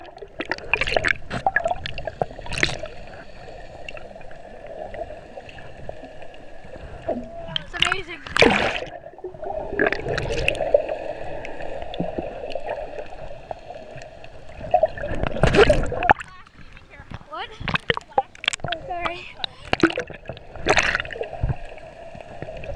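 Water sloshing, splashes and muffled gurgles from snorkeling in the sea off Cozumel, Mexico, in uneven bursts with a few louder splashes, while a person talks at intervals.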